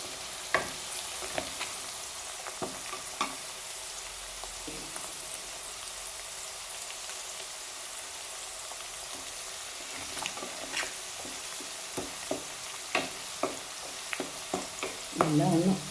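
Garlic frying in oil for a star fruit pickle, a steady close sizzle running throughout, punctuated by scattered sharp pops and crackles that grow busier toward the end.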